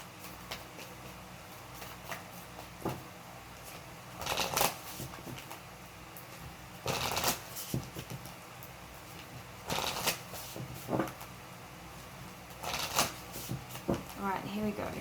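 Tarot love-advice cards are shuffled in several short riffling bursts spaced through the stretch, close and crisp, with a voice talking between them.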